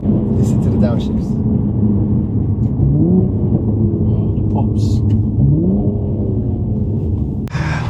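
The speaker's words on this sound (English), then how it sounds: "Listen to the downshifts." A Mercedes C43 engine runs steadily with rising and falling revs as gears drop, a continuous low rumble with a faint voice underneath, on a London street.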